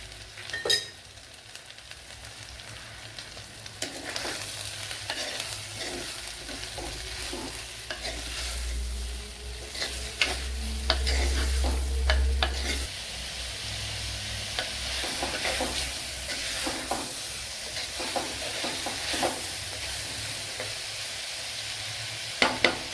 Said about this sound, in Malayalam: അപ്പോൾ സവാളയൊക്കെ നല്ലതുപോലെ ഒന്ന് വഴറ്റി ഒന്ന് വേവിച്ചെടുക്കണം